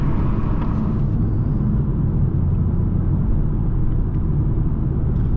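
Steady low road rumble and engine hum heard from inside a Toyota Supra MK5 cruising along, with faint tire and cabin noise and no talk.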